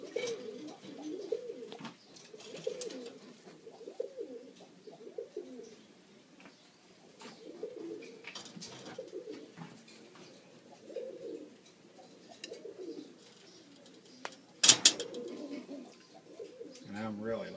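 Breeder pigeons coo steadily in a loft, a low rolling burble repeating throughout, with occasional wing flutters and a brief sharp clatter near the end.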